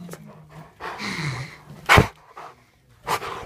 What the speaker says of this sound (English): here's my second dog, Malakai.